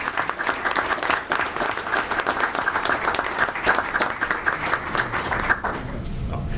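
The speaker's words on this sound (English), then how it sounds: "So we wanted to applaud you here in front of everybody" Audience at a Linden city freeholder meeting gives a round of applause, many hands clapping steadily for several seconds before it thins out and fades near the end.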